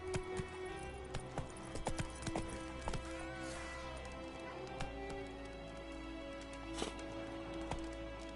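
Horse hooves galloping in The Witcher, a steady fast clip-clop rhythm of close, clear hoofbeats carrying through the whole stretch at a moderate, low volume.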